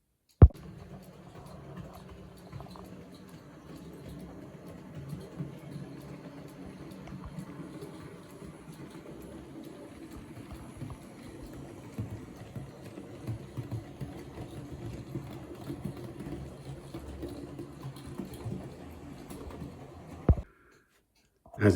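Model diesel shunter locomotive running along its track, a steady low motor hum and rattle throughout at moderate level, ending in a couple of sharp knocks.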